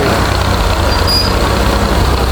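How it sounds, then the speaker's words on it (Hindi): A tractor engine drones loudly and steadily on a mountain road in Swat Valley, a dense, continuous rumble with no pauses and no voices. "देखिए ट्रैक्टर के कमालात"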